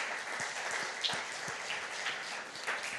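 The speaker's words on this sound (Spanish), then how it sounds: "Dele un aplauso al Señor por eso" Congregation applause at a church service, faint and somewhat distant, a soft continuous patter of many hands clapping with no one talking.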